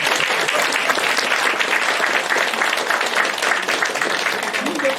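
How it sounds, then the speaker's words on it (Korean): A crowd at a Korean party leadership campaign rally in Sejong applauds loudly and continuously for several seconds, a dense, even roar of many hands clapping together with no pauses. "여러분 제 말에 맞으면 박수 한번 칩시다"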